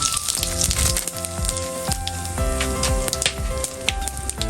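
Coriander and bay leaves sizzling in hot oil for a Nepali village-style local chicken curry, a steady loud sizzle with sharp crackling pops throughout, no talking.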